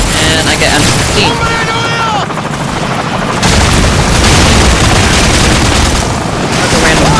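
A frag grenade goes off among the constant din of a Call of Duty 4 Ground War match, its boom mixed into loud, continuous gunfire and helicopter rotor noise.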